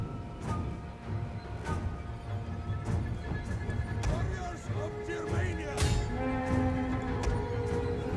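Horses whinny and neigh amid hooves and battle clamor in the video game Total War: Attila, with a sharper whinny rising near the end, while someone talks over the steady game din.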